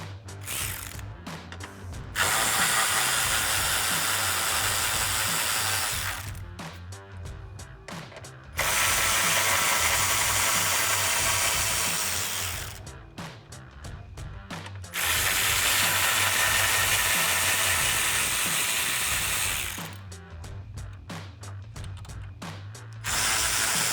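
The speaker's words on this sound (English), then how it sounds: "So I'll use my 10mm socket on a ratchet and pull those out." A ratchet driving a 10mm socket to remove the top grille bolts on a 2009-2018 RAM 1500 pickup clicks in rapid, steady bursts, alternating with brief pauses and lighter tapping between strokes, close and loud.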